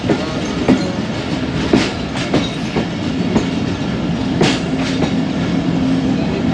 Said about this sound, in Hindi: 5 अप ग्रीन लाइन की लाइट्स जल रही हैं और वो स्लो लूप लाइन से ओवरटेक कर रही है